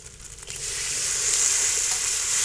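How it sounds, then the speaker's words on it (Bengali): Water poured into a pan of sizzling masala with duck eggs and potatoes, a rushing hiss that swells after half a second and holds as a steady loud sizzle, close and without talk. "এবারে জল দিয়ে দেবো।"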